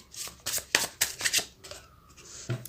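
Tarot cards are shuffled up close in a quick, rhythmic run of papery riffles and slaps that slows and trails off near the end.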